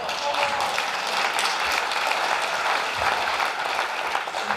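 An audience at a cabaret magic show applauding, a dense, steady wash of clapping from a crowd that carries on for several seconds.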